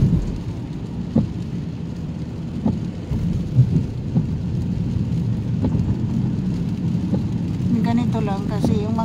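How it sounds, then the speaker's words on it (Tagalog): Steady rain pours beside a highway at night while low thunder rumbles roll in repeatedly, with a faint voice briefly audible near the end. "Sana mag-stop na ang ulan."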